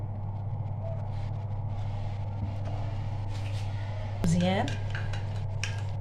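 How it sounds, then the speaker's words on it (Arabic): Natural face-mask ingredients are stirred together with honey in a small bowl, giving soft steady scraping and clinking of utensil against dish, with a brief sharper clink near the end over a constant low background hum. "غادي نخلطوا المكون مزيان"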